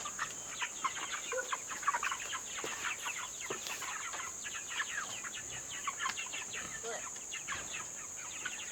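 Six-week-old young roosters clucking in a chicken coop, many soft overlapping clucks and chirps in an irregular busy chatter, fairly quiet with a steady high background hum.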